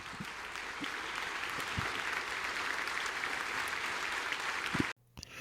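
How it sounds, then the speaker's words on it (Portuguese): A church congregation claps loudly and steadily, a thick wash of many hands with a few sharp nearby claps standing out, then the sound cuts off abruptly near the end. "Vamos colocar em pé e dar uma forte salva de palmas ao Senhor."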